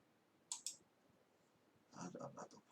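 Two sharp clicks sound close together near the start, consistent with a computer mouse button at a desk, followed by a short burst of talk.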